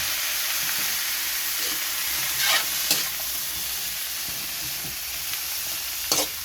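Squash (kalabasa) hits a hot pan and sizzles steadily for ginataan kalabasa with sitaw, a continuous frying hiss broken by a few sharp scrapes and clatters of stirring, with no voices.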